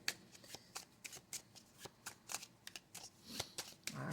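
A deck of cards being shuffled in repeated crisp riffles and flicks, close and clear, with short bursts of rapid flutter separated by brief pauses.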